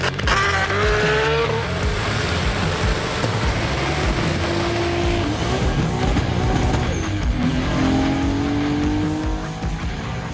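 A Toyota Mk4 Supra drives past amid other traffic, a loud engine roar with rising and falling revs and a brief tyre squeal, close by and continuous, with no voices.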